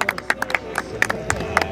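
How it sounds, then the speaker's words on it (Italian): Scattered hand claps and crowd noise greet the Mundialito Elite 2022-2023 champions at an awards ceremony, arriving as a few uneven, fairly close bursts rather than a sustained ovation. "facciamo un applauso anche a loro"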